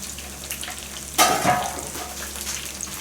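Tempura made with wild mountain vegetables fries in hot oil, a soft continuous sizzle that flares into a sharp burst of crackling as a piece drops in, then settles back to a gentle bubbling.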